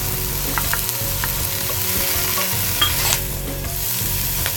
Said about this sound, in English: go ahead and add your curry leaves. The minced garlic,